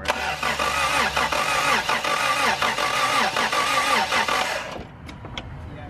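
A carbureted engine cranks with a rapid, rhythmic starter churn for several seconds without catching, then the cranking stops and leaves quieter background noise.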